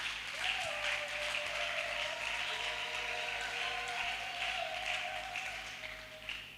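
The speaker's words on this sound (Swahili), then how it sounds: "Tumpigie mama katibu makofi." Applause from a church congregation for the general secretary at an office building dedication, a steady wash of clapping running throughout with a sustained tonal hum or music line beneath it.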